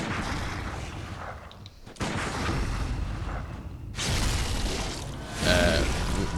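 Gunfire in Bloodborne during a fight against a blood-starved beast: several sharp, booming shots and heavy impacts land at irregular intervals, loud and close amid game noise, with no talk over them.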